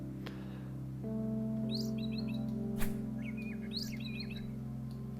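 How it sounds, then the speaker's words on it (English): A bird in the video game Intergalactic Fishing gives two quick chirping trills a couple of seconds apart, light and faint over a steady low ambient hum. "Got a bird making some noise over there."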